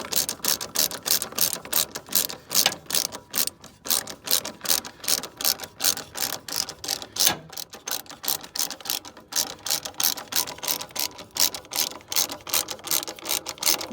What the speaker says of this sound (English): I'm just ratcheting it. You can see that rod being drawn in from the nut.